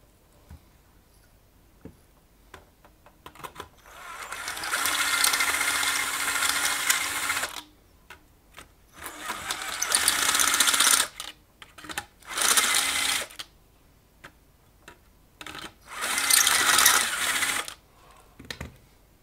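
A drill countersinks a hole in a metal tube-socket chassis, whirring in several separate bursts of a few seconds each with short quiet gaps between, close and loud.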